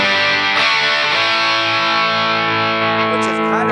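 An electric guitar played through a Blackstar Amped 3 on its super crunch distortion setting strikes a single gritty chord that rings on and slowly decays, alone and up close.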